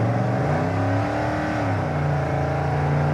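A 1972 GMC Sprint engine revs and drones loudly through its factory exhaust with cutouts, a deep steady rumble that rises and settles briefly, close by with no talking.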